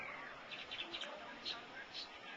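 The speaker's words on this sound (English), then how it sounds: "Listen to some birds" Birds chirp near a guava tree at Huaca Rajada, with a few faint, short high tweets scattered over soft outdoor background noise.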